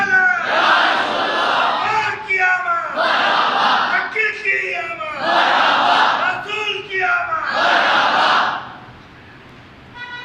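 Large gathering at a Mawlid religious gathering chanting loudly in unison, four long swelling phrases with short breaks, dense and close, fading out at the end.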